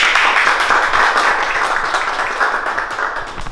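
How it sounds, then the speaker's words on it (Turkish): A small group claps to welcome a guest during a cooking-themed shoot, a steady, close, fairly loud patter of hands that runs the whole stretch without voices. "Onu buraya alalım. Alkışlarla."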